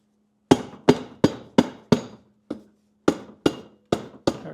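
Ten sharp taps ring out against a 1970s Mercedes 722.1 transmission case as it is knocked loose from its gasket, arriving in a quick, steady rhythm with a short pause midway, close and crisp with no talk.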